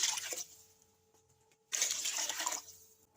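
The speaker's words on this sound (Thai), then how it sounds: "พอเนื้อเปื่อยได้ที่ประยาจะเติมน้ำค่ะ" Water poured into a pot of stewed beef: two splashing, gushing pours with a short quiet gap between them, close and with no speech.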